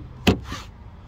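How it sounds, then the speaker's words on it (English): The rear door of a 2023 Honda Ridgeline RTL pickup opens with one sharp latch click, followed by a softer, brief swinging sound, fairly quiet and with no voices. "Door opens up pretty wide now."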